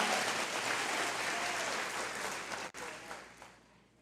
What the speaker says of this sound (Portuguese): Se for para Jesus, você aplaude Ele.